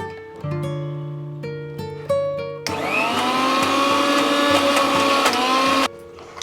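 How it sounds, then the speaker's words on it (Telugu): A kitchen mixie grinds thick green Telagapindi leaf chutney with a splash of water, a loud steady whirring motor roar running for about three seconds, with tonal music playing before and after. "మళ్ళీ ఇంకొకసారి మిక్సీ పడితే"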